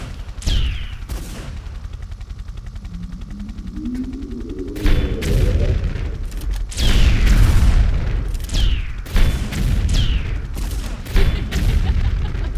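Rocket launcher blasts in the Tomb Raider 3 game, City level: a rising whine, then a run of loud, close booms and sharp bursts repeating through the second half.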